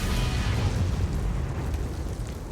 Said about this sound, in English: Helicopter explosion.